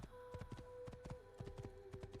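A horse's hooves clip-clop steadily in the Assassin's Creed video game, a regular rhythm of close, distinct hoofbeats over a faint steady tone.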